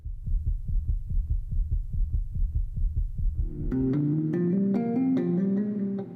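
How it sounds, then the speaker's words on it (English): Recorded heartbeat of a heart donor set into a song: a steady, loud, low double-thump pulse repeats alone for several seconds, then gives way to layered sustained musical tones with bright plucked accents. "The track incorporates sounds from her donor's heartbeat."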